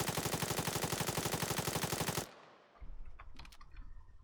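A full-auto rifle in the video game Arma 3 fires one sustained rapid burst for about two seconds, loud and close, then cuts off abruptly, leaving faint low rumbles and small clicks.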